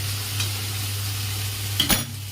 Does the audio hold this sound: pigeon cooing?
no